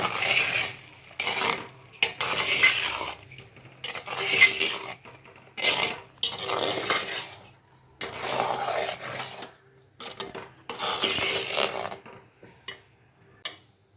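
A spoon stirs a kalkandu rice mixture in a pot with repeated scraping, rasping strokes in short bursts separated by brief pauses. The strokes are close and clear, with no talk.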